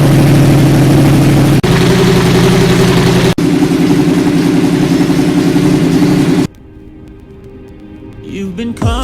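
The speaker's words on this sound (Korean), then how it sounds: "시동 걸어볼게요." A 2015 Yamaha R1 motorcycle, repaired after a broken main case, idles loudly and close for several seconds, then cuts off abruptly, leaving faint background noise.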